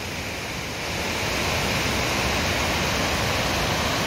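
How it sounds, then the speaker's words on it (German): A 40-metre mountain waterfall in Kleinwalsertal, Austria, roars steadily and loudly, a dense continuous rush of falling water that swells slightly after the first second and holds constant. "40 Meter in die Tiefe geht der Wasserfall."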